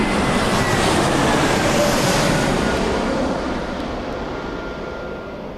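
A large airliner passing close at Birmingham Airport, a loud, steady broadband engine roar that slowly fades as it moves away, with no talking.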